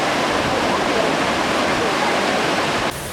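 Dokomali Waterfall in Ainaro, Timor-Leste, roars as a loud, continuous broadband rush of falling water heard up close, steady throughout before dipping slightly at the very end.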